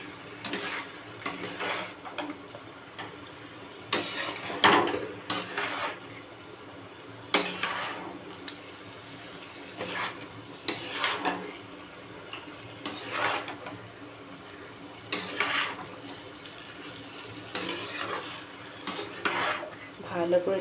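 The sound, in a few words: stirring boiled jackfruit with spices in a pan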